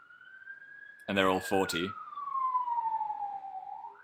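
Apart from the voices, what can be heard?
police car siren passing outside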